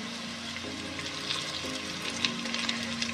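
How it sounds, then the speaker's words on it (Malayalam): Finely chopped garlic, ginger and curry leaves sizzle in hot oil in a pan, a steady close frying hiss broken by light clicks and scrapes of stirring, with no one speaking. "വെളുത്തുള്ളിയും ഇഞ്ചിയും കൂടി ഇട്ടിട്ട് നന്നായിട്ട് ഇളക്കി കൊടുക്കാം കറിവേപ്പില കൂടി ഇട്ട് കൊടുക്കാം"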